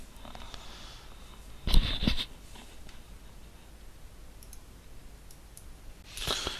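A computer mouse clicks through a software installer on an Apple Mac running Lion, with two bursts of clicks near the start and one near the end. Low background hiss fills the gaps and no one talks.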